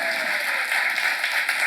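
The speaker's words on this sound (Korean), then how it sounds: "본 사람만 박수 한번 치죠" A church congregation at a seminar claps together in a brief burst of steady, fairly close applause that fills the whole moment.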